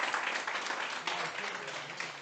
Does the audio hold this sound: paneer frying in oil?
no